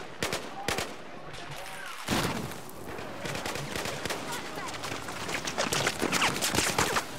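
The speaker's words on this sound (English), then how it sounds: "what the heck was shooting at me then?" Dense Battlefield 4 gunfire in the Suez mission, bursts and scattered shots crackling almost continuously with a loud opening volley, a background voice murmuring underneath.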